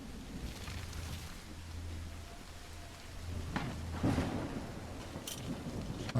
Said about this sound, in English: like it's raining cats and dogs here